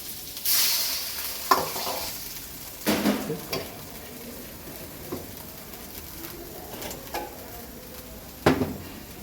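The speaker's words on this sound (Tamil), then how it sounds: "கொஞ்சம் வதக்கிட்டு இதில் ஆரஞ்சு போட்டுக்கணும்" Orange chilli chicken sautés in a pan with a soft steady sizzle, broken by several sharp scrapes and clacks of a spoon stirring against the metal.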